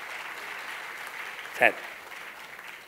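Audience clapping at a Tamil stage talk, a steady wash of many hands throughout, with a brief spoken word near the middle.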